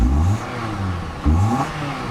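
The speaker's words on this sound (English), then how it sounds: "Revs up nicely, it idles smoothly." A 2012 Mitsubishi Lancer GT engine revs up sharply twice, each burst rising in pitch then dropping back toward a steady idle, close and loud with no talking.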